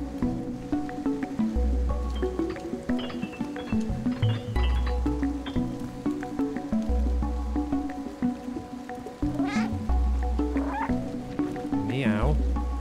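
Cat meows from the video game Stray, a few short mewing calls rising over steady game music and ambient sound, with a person talking across much of it.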